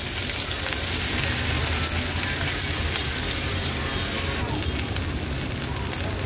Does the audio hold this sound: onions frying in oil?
yes